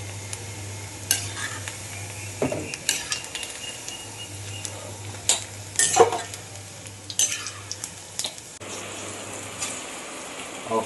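Masala paniyaram batter frying in oil in a pan, crackling sizzle broken by sharp metal clinks and scrapes of a spoon or skewer, with a low steady hum running beneath.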